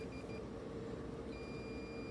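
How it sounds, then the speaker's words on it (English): A thin, steady multimeter continuity beep sounds twice while testing a linear power supply's output, the second tone sustained, over a low background hum. "you notice right away we're getting beep and continuity"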